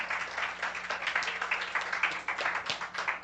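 Audience applause at a university international week event, a few seconds of steady, dense clapping from a room of people.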